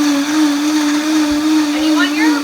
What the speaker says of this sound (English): You're going to want to turn your food processor or blender on high